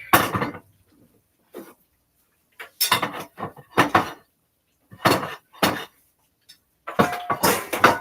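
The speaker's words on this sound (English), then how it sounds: "Oops, everything is falling out of the cupboard" Dishes, a platter and other kitchenware tumble out of a home kitchen cupboard in a series of short clattering bursts with brief quiet gaps between them, loud and close.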